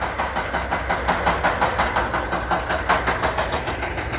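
A Shifeng SF354 mini tractor's diesel engine idles nearby with a rapid, regular knocking chug, steady and loud throughout, with no voices.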